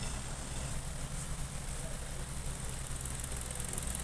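A 2019 Hyundai Solaris with a 1.6-litre engine and automatic transmission idles close by with a steady low rumble and faint hum, holding an even level throughout with no voices.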